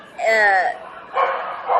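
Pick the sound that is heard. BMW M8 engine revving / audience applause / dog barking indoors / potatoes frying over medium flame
dog barking indoors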